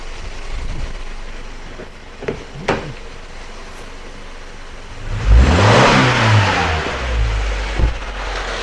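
A car engine, under test for a MAF sensor fault, idles quietly at first, then is revved hard to wide open throttle, a loud climbing roar that holds for a few seconds before easing back.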